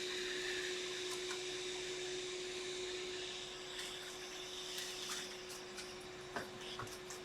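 A hot-air tool heats an IC on a PS4 controller circuit board, making a faint, continuous airflow whoosh with a steady tone and a few small clicks.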